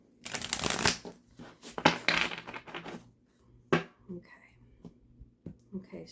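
A deck of cards is shuffled with a few quick riffling bursts, followed by softer shuffling and soft, quiet speech.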